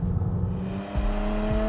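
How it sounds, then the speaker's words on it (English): Exhaust of an Audi SQ5, miked right beside the tailpipe: a steady, loud engine drone with low rumble and a slight swell around the middle, continuous and without talk. "the sound you're hearing now is from a microphone placed next to the exhaust."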